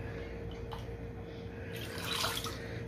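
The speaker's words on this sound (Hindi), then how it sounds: "अब जो है हम इसका दोबारा जो है पानी चेंज करेंगे। हम 1 से 2 पानी जो है हम इनको धोएंगे।" Sliced potatoes being washed in water for lachha chips, a soft, steady sloshing and trickling close by, swelling into a louder splash near the end.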